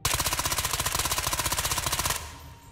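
An MP9 submachine gun fires in Ghosts of Tabor as one sustained full-auto burst of about two seconds, rapid evenly spaced close-up shots that stop abruptly and leave a brief fading tail.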